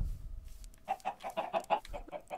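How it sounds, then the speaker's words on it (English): Chickens in Minecraft cluck in a quick run of short, clipped notes, close and fairly loud, with no talking over them. "I heard a chicken."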